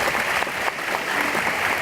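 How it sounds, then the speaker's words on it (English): Audience clapping at a school legends ceremony, a dense, loud burst of applause sustained evenly throughout without pause. "give them a big clap"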